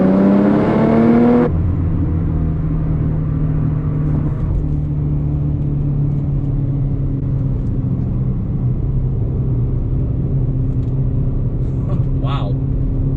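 A Mercedes-Benz C300 W204 pulls up to speed on a highway exit, with steady engine drone and rising tones heard from inside the cabin, and road rumble continuing underneath a brief voice near the start.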